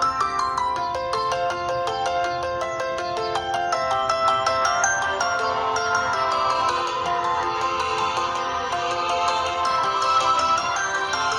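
Ringtone from a Samsung Galaxy Core Prime phone, a bright electronic melody of rapid repeating tones playing continuously at steady volume, with no voices.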